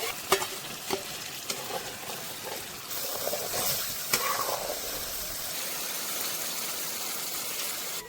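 Pre-cooked gravy being stirred and fried in a pan, a steady sizzle with scraping stir strokes and brief clinks near the start, continuing without talk.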